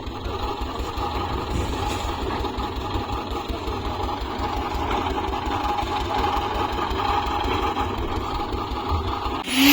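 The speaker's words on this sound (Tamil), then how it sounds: "என்றைக்குமே இந்த மாதிரி வைப்ரேட்டர் போட்டால்" A concrete needle vibrator runs steadily while compacting fresh M20 concrete for a plinth beam on a building site, a continuous close motor drone with a rapid buzzing pulse and no talk.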